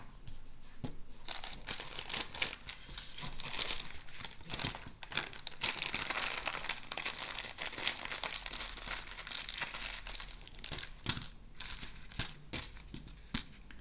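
Paper rolls being taken out and handled close up, producing continuous dense crinkling and rustling with small crackles and brief soft taps throughout.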